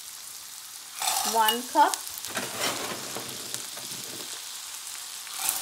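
Green peas going into a pan of sautéing vegetables with carrots, a soft sizzle and stirring clatter rising after a brief spoken phrase, then settling into a low steady frying hiss.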